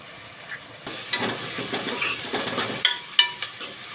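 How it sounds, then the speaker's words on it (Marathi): Chopped onion and tomato sizzle in a pan as they are sautéed and stirred, a soft, steady frying hiss broken by light scraping and clicks from the spoon. "कांदा आणि टोमॅटो चांगला परतून घ्यायचा आहे"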